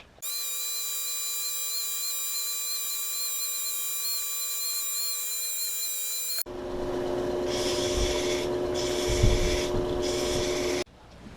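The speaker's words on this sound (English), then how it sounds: "but first let's sand it." A cherry burl bottle stopper is sanded on a lathe: a steady, tonal machine whine runs first, then switches to a louder, rougher hum with a bursts of abrasive sanding noise.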